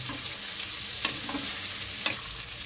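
Whole garlic cloves frying in a pan for chicken butter masala while being stirred, a steady oil sizzle with a couple of sharp scraping stir strokes, close and alone without talk.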